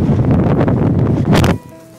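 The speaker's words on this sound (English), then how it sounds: "It's so windy outside, I had to actually be sitting in my car in order to do this recording." Strong Montana wind roars and buffets outside a car, a loud close rushing gust that cuts off abruptly near the end into quiet.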